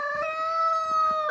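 A chocolate-colored porcelain hen gives a single drawn-out, tonal call close by, steady and clear before trailing off at the end, with no talk over it.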